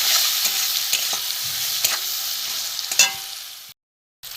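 A ground spice mix of turmeric, chili, cumin, coriander and ginger fries in a pan with a loud, steady hiss, punctuated by scraping stirs, then stops suddenly.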